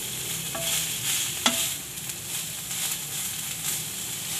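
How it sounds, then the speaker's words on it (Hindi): Vegetable and chicken club sandwich filling frying gently in a pan over a low flame, a soft continuous sizzle with a couple of light spoon taps and stirring scrapes. "अब इसको हल्का सा फ्राई करेंगे"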